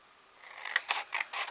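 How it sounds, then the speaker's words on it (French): Small scissors snipping through paper, three or four crisp, close cuts in quick succession after a quiet start, with no talk. "j'ai utilisé les petits ciseaux"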